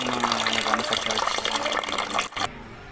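Water gushes steadily from a tap into a cooking pot, just after salt has gone in, then cuts off abruptly near the end, with a person talking over the pouring.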